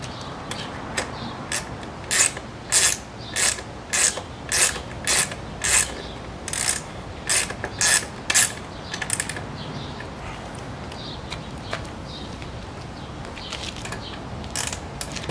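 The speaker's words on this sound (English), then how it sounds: "I set my wrench." A ratchet wrench tightens fairing bolts on a motorcycle in a quick run of sharp, evenly spaced clicks. After a pause a second, fainter and sparser burst of clicks follows, close up with no talk.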